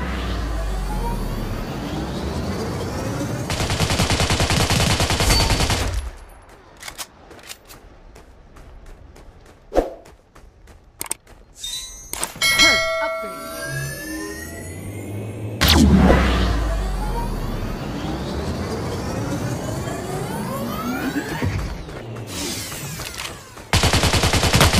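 Gunshots and bursts of machine gun fire from a World at War shooter video game, loud and dense in stretches, with sharp single shots and scattered impacts in a quieter middle section before sustained firing resumes.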